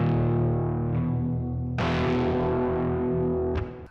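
Electric guitar run through an amp with Thermal and Dark and Dangerous effects, giving a thick distorted, chorus-tinged tone; two sustained chords ring out alone, the second struck hard partway through, before a quick cutoff at the end.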